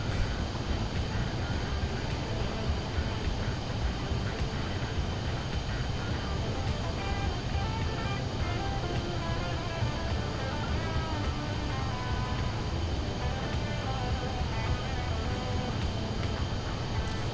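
A PC-24 business jet in Microsoft Flight Simulator 2024 drones steadily inside a motion-platform sim rig, a dense, even engine roar that holds without a break.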